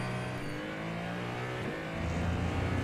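Race car engine revving and accelerating on a track, a steady close drone that climbs in pitch and grows slightly louder toward the end, no talk.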